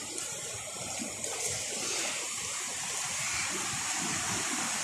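Water from a waterfall and cold spring pours and rushes in a steady, close, broadband gush that fills the whole stretch with no voices.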